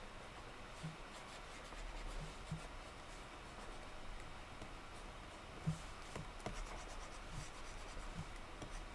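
A pen or stylus draws line art, creases in clothing, producing a soft continuous scratching and rubbing with faint light taps, quiet and close.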